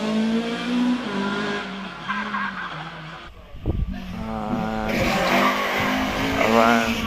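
Rally car, a Ford Escort on Pirelli competition tyres at the Prescott hill climb, sliding tail out round a bend with tyres squealing and the engine revving hard under a commentator's voice.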